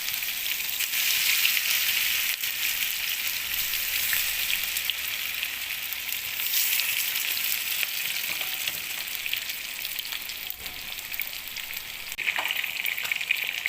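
Chili chicken frying in a pan, a steady close sizzle and crackle of hot oil running without pause, with a few soft stirring scrapes and no voices.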